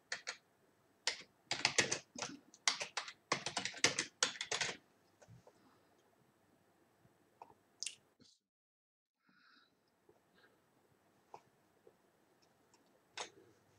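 Quiet keystrokes on a computer keyboard as a date is typed, a quick burst of clustered clicks followed by sparse isolated taps and a few louder single key presses, close and alone with no talking.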